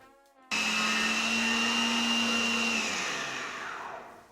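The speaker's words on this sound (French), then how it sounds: "Mixez le broyage avec le sucre au cutter et mélangez avec 75 g de blanc d'œuf." A food processor grinds almond meal with sugar, its motor starting abruptly with a loud, steady high-pitched whine that holds for a few seconds, then drops in pitch and gradually fades while still running.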